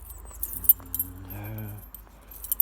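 Keys jingle in a handful with several short metallic clinks and rattles, close by, near a shed where a diesel heater is being worked on, with a low hum beneath.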